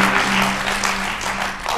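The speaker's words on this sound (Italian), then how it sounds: "un applauso a noi." Theatre audience at a comedy magic show applauding after a trick, a brief, even wash of clapping from the crowd over a faint steady hum.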